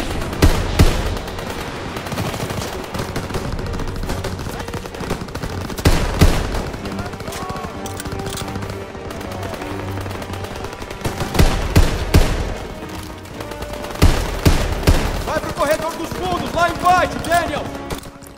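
Machine gun fire rattles in repeated loud bursts through a Call of Duty WWII battle, with rapid gunshots and scattered single shots close up, and voices shouting over the combat.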